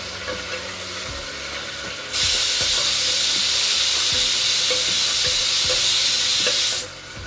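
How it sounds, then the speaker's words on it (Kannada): Mint leaves and masala frying in a pan, a loud steady sizzle that swells into a bright hissing rush for several seconds, with repeated soft knocks of a spoon stirring underneath. "ಇದೆಲ್ಲ ಸ್ವಲ್ಪ ಚೆನ್ನಾಗಿ ಫ್ರೈ ಆಗಲಿ"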